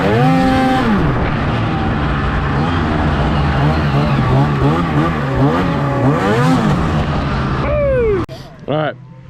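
An Arctic Cat Catalyst snowmobile engine howls loud and close on laps around a snowy ball diamond, pitch rising and falling with throttle, then cutting out abruptly before a final short rev.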